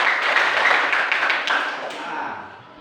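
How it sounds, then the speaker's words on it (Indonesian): A classroom of pupils claps for a classmate in a burst of dense, fairly close applause. It holds steady for a couple of seconds, then thins and fades out. "Tepuk tangan untuk Asalia."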